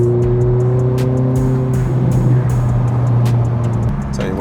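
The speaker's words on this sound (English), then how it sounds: "The engine's right behind your ears." Ferrari F430 engine running right behind the cabin, a steady loud mid-engine drone with a firm low hum and harmonics that shift slightly near the end, mixed with faint clicks and road noise, no talking.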